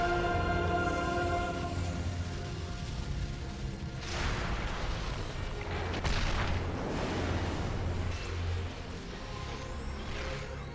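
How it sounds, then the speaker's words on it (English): Explosions rumble and boom in a Xenoblade Chronicles 2 battle, a loud sustained blast with crackling bursts and fresh impacts near the middle and end, layered over steady game music with no voices. "That explosion looks very dangerous"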